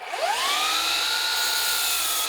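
A power saw cuts through a wooden board for a patio table leg, the blade's whine rising and settling into a steady, loud, continuous tone with no voices.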